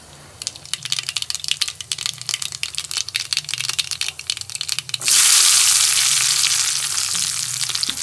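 Spices for sambar crackling in an iron cheenachatti: rapid, dense popping for several seconds, then a sudden loud, sustained hissing rush as more goes into the hot pan, close and loud, no talking.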